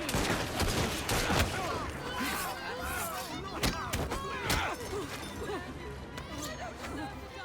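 Pistols fire in Assassin's Creed Syndicate, a handful of sharp, separate cracks and thuds scattered through a busy scene, mixed with shouting voices and a general clatter of action.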